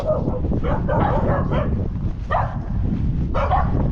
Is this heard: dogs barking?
yes